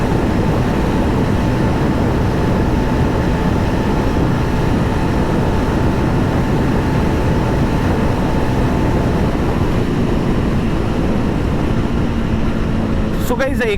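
Riding at about 130 km/h on a 2024 Yezdi Roadster motorcycle, dense, unbroken roaring of wind and engine stays loud and even throughout, with a brief crackle near the end.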